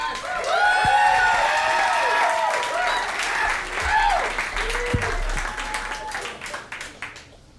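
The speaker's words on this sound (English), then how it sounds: "Now keep that applause going, ladies and gentlemen" A comedy club audience applauds and cheers as a comedian is introduced, a dense wash of clapping with scattered whoops and shouts. An amplified voice speaks over the crowd before the applause tapers off.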